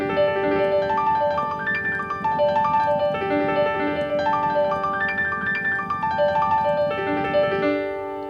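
Rapid piano runs sweep up and down the keyboard in continuous, even notes, played close and clear with no voices.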